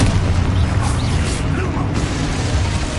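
A Confringo fire spell blasts in Hogwarts Legacy amid combat, a loud, dense rumbling boom with crackling bursts filling the whole moment.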